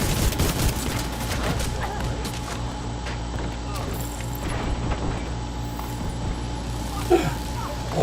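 Rapid gunfire in the video game Division 2, bursts of automatic shots and scattered single rounds crackling through a steady low game background, close and fairly loud over most of the stretch.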